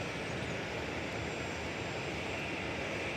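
An American Airlines jet, Flight 1304 bound for Los Cabos, hums with a constant engine roar at DFW Airport, heard steadily from a distance with no speech.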